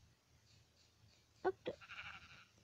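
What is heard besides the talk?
sheep bleating in Minecraft video game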